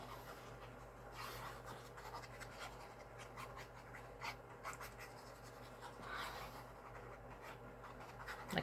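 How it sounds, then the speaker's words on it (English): Tombow liquid glue is scribbled from a small nozzle onto a paper card, making faint, close scratchy rubbing strokes in short irregular bursts against a quiet room hum. "Just a lot of little scribbles because it's very little amount of glue that comes out of that nozzle."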